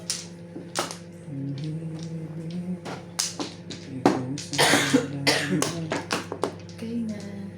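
Several sharp coughs burst out at irregular intervals during a mahjong game, close and fairly loud, mixed with quieter background murmuring and a low steady hum.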